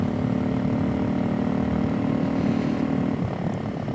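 A Suzuki DRZ 400SM motorcycle engine held on the throttle, giving a loud, steady droning rumble close by that eases off slightly near the end.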